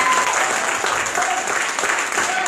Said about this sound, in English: Dr. Khan, could you give him a hand clap?